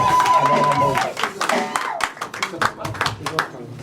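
A church congregation claps and cheers for Jesus Christ in a burst of loud applause that breaks into scattered individual claps, with a voice speaking over the start.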